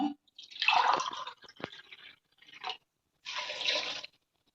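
Water is poured into a pot of sambar cooking with broad beans and other vegetables. The pours come in a few separate bursts, splashing close and fairly soft, with short pauses between them.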